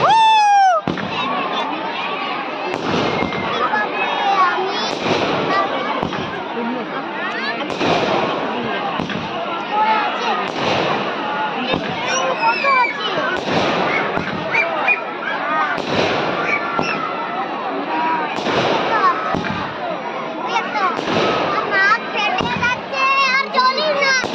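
Fireworks burst loudly and repeatedly outdoors, with crackling explosions coming in rapid irregular waves, while children and adults talk and shout throughout.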